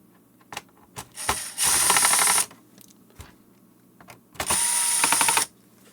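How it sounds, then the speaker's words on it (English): Screws being backed out of the keyboard on a PAR 3M G5 drive-thru unit with a powered driver: scattered clicks, then two sustained whirring, ratcheting bursts of about a second each, close and loud with quiet gaps between. "First, I'm going to open the top screws."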